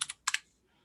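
A password is typed on a computer keyboard as four crisp keystrokes in two quick pairs, close and clear, followed by quiet.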